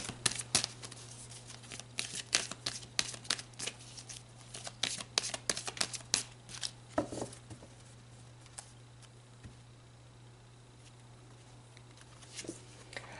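Tarot cards are shuffled and drawn by hand, giving a rapid run of crisp, close riffling clicks and flicks that thin out into quieter occasional card handling over a steady low hum.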